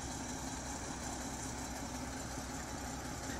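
A tractor engine idles in a steady, unbroken rumble with a faint rattling vibration. It sounds continuous and even throughout, with no voices.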